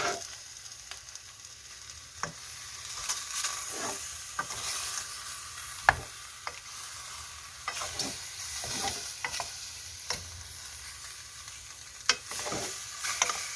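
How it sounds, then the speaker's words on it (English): Korean chicken stew (dakdoritang) is stir-fried in a pan with a steady, soft sizzle and scattered scraping clicks from stirring, fairly quiet and close, with no talking. "Then stir fry it for almost 20 to 30"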